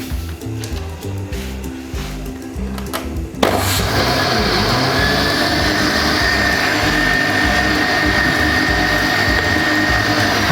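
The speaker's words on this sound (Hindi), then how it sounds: "और अब हम इनको ब्लेंड करने लगे हैं" A blender grinding soaked rice starts up abruptly and grinds loudly and steadily, a harsh whirring roar that continues without pause after a few seconds of quieter rattling.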